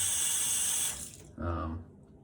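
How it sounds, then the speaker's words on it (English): Bathroom faucet running at full blast over a shaving brush, a loud steady hiss of water that cuts off, then a short gush and splash before fading quiet. "putting it under a full blast of the faucet, it's still all gummed up inside there"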